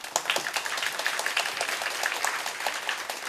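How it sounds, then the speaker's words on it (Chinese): Steady applause from a conference audience welcoming a speaker at a COSCUP 2019 technical talk on the Linux kernel, a dense patter of many hands clapping at moderate loudness throughout, with no voices over it. "让我们掌声欢迎讲者"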